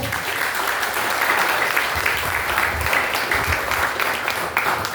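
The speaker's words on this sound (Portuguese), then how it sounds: "Salva de palmas para essa criança, igreja." A church congregation claps steadily for several seconds, a dense wash of applause filling a large room.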